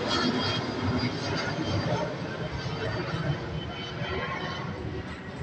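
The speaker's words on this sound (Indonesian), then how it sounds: "di video kali ini kita dengar suara pesawat lewat ya guys" A loud, steady broadband roar of a Lion Air airliner passing near Soekarno-Hatta Airport, rumbling continuously without a break and with no voices over it.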